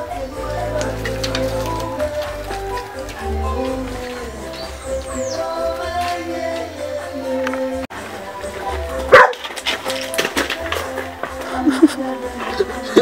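A dog barks repeatedly in short bursts at a farm where a goat is kept, mixed with people talking and other background sounds.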